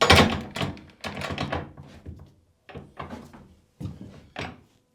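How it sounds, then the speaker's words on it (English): A door swings shut with a run of loud knocks and rattling thumps in uneven bursts, ending in a couple of final closing thuds. "so we'll close the door"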